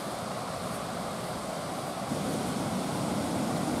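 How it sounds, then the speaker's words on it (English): A small roadside waterfall by an old mill pours in a steady, broadband rush, constant and fairly loud, with some wind buffeting and no voices. "Oh, looks like a nice little waterfall."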